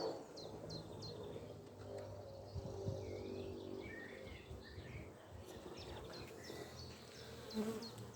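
Honey bees buzz around a hive on a mild May day in Ireland, a soft, continuous drone with scattered bird chirps in the background, fairly faint and steady throughout.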